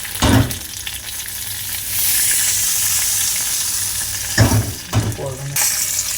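Dried red chillies and curry leaves hit hot oil for a tempering, giving a strong close sizzle that swells and hisses steadily, with a few clattering knocks of a utensil and no voices.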